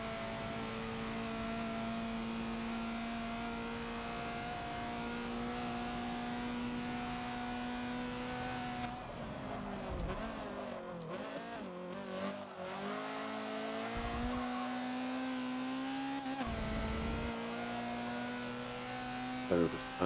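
A Honda CRX race car engine at VIR in Forza drones at high revs and steady pitch, then drops and rises through gear changes with brief tire squeals, loud and continuous throughout.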